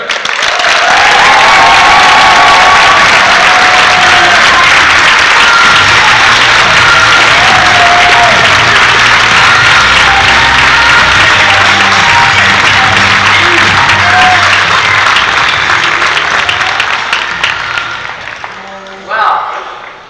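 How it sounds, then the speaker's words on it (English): Thunderous audience applause and cheering greet a woman walking onto a stage, a loud, dense wall of clapping and shouts that holds steady for most of the stretch before tapering off near the end. "Will you please all join me in absolutely thunderous applause and cheering as Ms. Tonya Cain comes to the stage."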